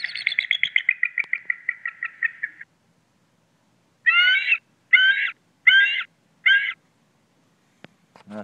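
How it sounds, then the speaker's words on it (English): Bald eagle call played back from a Bird Song Bible device: a rapid series of thin, descending chirping whistles, then four separate harsh squealing calls, clear and fairly loud with quiet gaps between. "we push play to hear our bald eagle friend"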